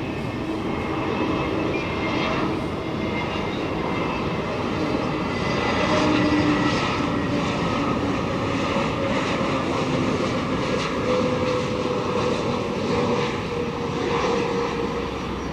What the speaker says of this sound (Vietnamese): mời mọi người chiêm ngưỡng hạ cánh của chiếc Airbus A320neo này đã nhé